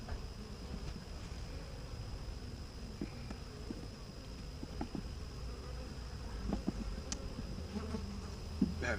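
Honey bees buzz steadily in an open queenless hive, a dense close drone with scattered higher whines of individual bees passing near, along with faint knocks and scrapes.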